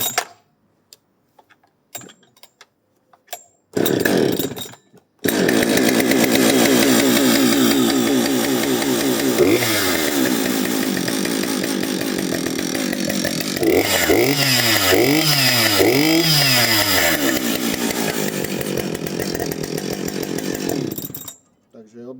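A few sharp pulls and sputters in a cold start at 4 degrees, then a Husqvarna and a ProCraft GS-52P chainsaw roar to life and run loudly, revving up and down in repeated surges before cutting off.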